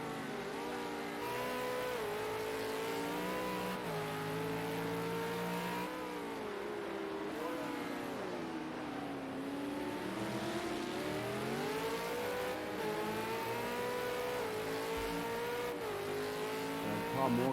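V8 Supercars racing in a 150 km Sunday Series round at Ruapuna circuit, including a blue XR8: multiple engines drone and rev continuously with shifting pitch, loud and steady throughout, with commentary faintly underneath.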